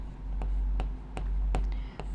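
A pen writes out a maths solution on paper, with quick scratchy strokes spaced about a third of a second apart over a low steady background hum.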